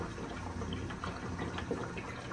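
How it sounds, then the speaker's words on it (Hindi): A Super Asia automatic washing machine drains water in a steady, low, continuous rushing and gurgling wash with faint bubbling, heard alone at a moderate distance. "ये देखें 21 मिनट पे आके इसने पानी ड्रेन करना शुरू कर दिया है।"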